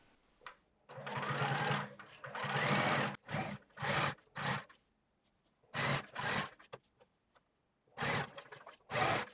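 Sewing machine stitching along the edge of jeans, running in several loud, rapid whirring bursts with short quiet pauses between them.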